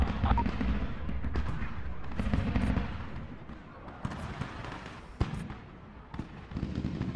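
Hellfire missiles in the combat game Medal of Honor (2010) fire and impact in a series of booms and sharp cracks over a low rumbling battle din.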